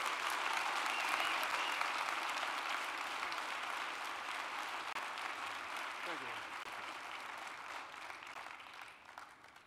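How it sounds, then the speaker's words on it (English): Sustained applause from an audience after a talk, a broad wash of clapping that holds steady and slowly fades toward the end, with faint voices underneath. "Can we get another round of applause for this wonderful lady?"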